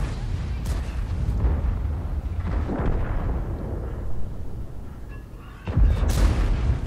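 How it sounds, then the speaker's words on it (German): A tank cannon firing in the World of Tanks game lands as a heavy booming blast with a rumbling tail, followed later by a second sharp boom, loud and set against steady battle noise. "schöner Schuss in die Seite des Turms vom Centurion X"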